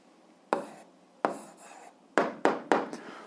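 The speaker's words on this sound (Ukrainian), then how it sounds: "записуємо відповідь, пишемо відповідь." A pen or pencil writes an answer by hand on paper in several short, close scratching strokes separated by brief pauses, with no talking.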